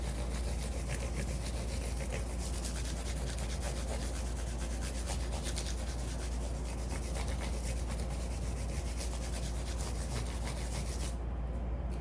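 Fine 600-grit sandpaper rubs back and forth over stainless steel frets on a Gretsch guitar, a steady, close, raspy scratching that continues evenly without pause and without speech.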